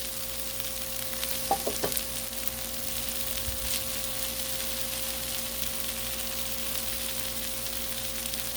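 Chicken fried rice frying on a Blackstone griddle makes a continuous, even sizzle, with a few scraping clinks of a spatula stirring early on and no talk.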